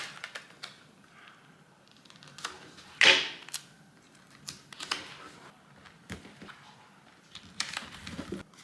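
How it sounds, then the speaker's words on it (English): Tape is applied to a vision board: a sharp ripping pull from the roll stands out midway among soft scattered taps and handling clicks, all quiet and close. "Go ahead and tape it down."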